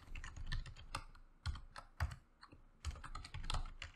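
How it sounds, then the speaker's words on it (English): A computer keyboard is tapped in short bursts of quick keystrokes as a password is entered, separated by brief pauses; crisp, close clicks with no talking. "And then you have to type in the password of that user"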